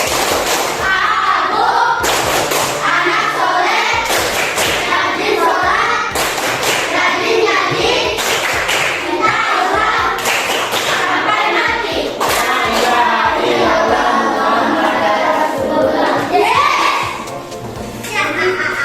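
Children clapping hands in a rhythmic group clapping chant in a classroom, loud sharp claps in repeated patterned bursts mixed with children's chanting voices.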